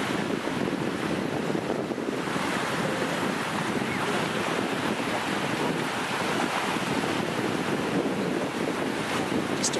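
Ocean surf washing onto the shallow, white-sand shore of Lido Key beach, a steady broadband roar mixed with wind buffeting the microphone, no voices.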